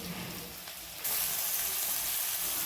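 Green chilli pieces sizzle in a hot pan, and then the frying jumps to a loud, steady hiss as chopped tomato is tipped in, continuing evenly without any talk.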